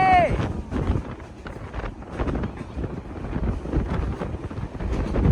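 Strong wind buffets the microphone on the Teesta Bridge in a steady, roaring rush, with a person's voice partly audible through the gusts.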